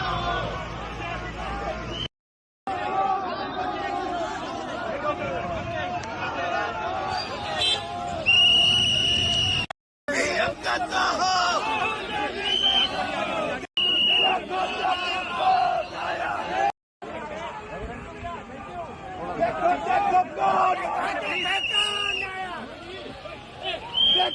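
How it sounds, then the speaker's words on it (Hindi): A huge crowd packs a road at midnight for a political road show, roaring, cheering and shouting together in loud waves that rise and fall, with brief breaks in between. "ये देखिए भीड़ इतनी की गाड़ी रोकनी पड़ गई वहीं पर आधी रात में"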